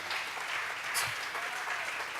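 Church congregation clapping hands in steady, dense applause throughout, fairly close and even in level, with a brief voice rising out of the clapping near the middle.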